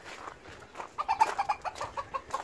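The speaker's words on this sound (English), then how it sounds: "Hello chickens" Backyard chickens near a vegetable garden cluck in a run of short, quick calls, fairly close and clear against a quiet background.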